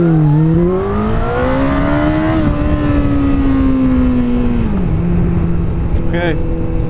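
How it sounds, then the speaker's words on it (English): A Kawasaki ZX-14R sport motorcycle roars through a hard 0-60 mph run, its engine note climbing steeply, dipping at a gear change and climbing again, loud and close, with wind rush underneath. "I've got to be careful doing these kinds of 0 to 60 runs with this bike, because it produces so much torque"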